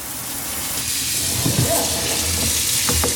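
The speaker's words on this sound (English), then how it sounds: "it to spray, and you can hear that sprayer. I mean, it really sprays out" An Anzzi Del Moro pull-out kitchen faucet sprayer sprays water into a sink, a steady close hiss of spray rising partway through, with brief splashy bursts near the end.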